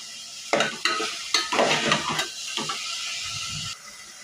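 A spoon stirs masala through cauliflower curry pieces in a pan, with a series of scraping, clattering strokes over a soft sizzle, close and fairly loud, no voices.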